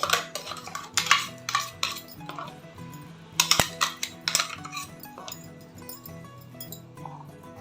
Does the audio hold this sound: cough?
no